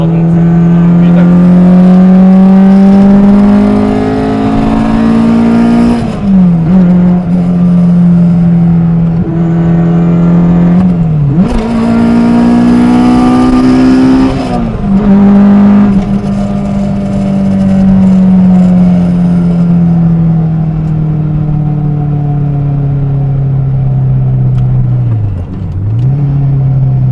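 A modified Honda Integra DC2 with a Type R engine swap revs up close and loud, climbing in pitch through VTEC several times, each pull dropping back before rising again in a droning, sharp tone.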